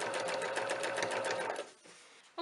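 A sewing machine stitches a curtain hem in a steady, rapid mechanical whir, running continuously and close before slowing and dropping away near the end.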